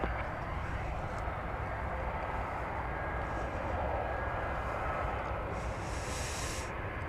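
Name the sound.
airplane taking off at DFW Airport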